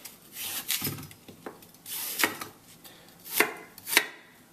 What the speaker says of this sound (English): So with apples, we just chop them like this.